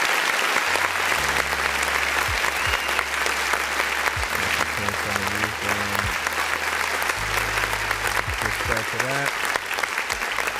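Applause sound effect played during a live stream music review, a steady dense crowd-clap texture running the whole time at loud level, with music and tones continuing underneath.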